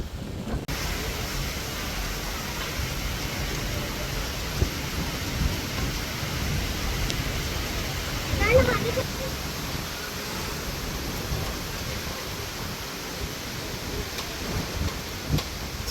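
Rain falls steadily from a dark storm cloud, a dense continuous hiss, with a brief low rumble of thunder near the middle.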